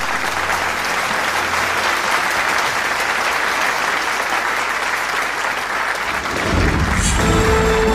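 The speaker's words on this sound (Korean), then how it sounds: "여러분 큰 박수로 반기문 전 유엔 사무총장을" A large hall audience at a mass rally applauds a former UN Secretary-General taking the stage, loud continuous clapping from many people, swelling and turning brighter near the end.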